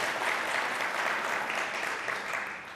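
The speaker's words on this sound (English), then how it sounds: "I've never gotten applause for the bands before" Audience applause following a finance talk by a trading analyst, a steady, dense wash of many hands clapping throughout, even and sustained without speech.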